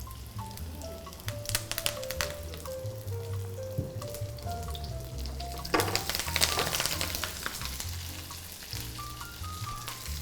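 Curry leaves hit hot oil with fried red chillies while cooking an Erode Nallampatti chicken roast, giving a steady close sizzle with busy crackling pops that swell midway; no talking.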